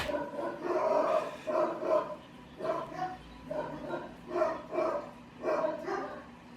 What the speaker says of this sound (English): Maybe the dogs will bark a lot.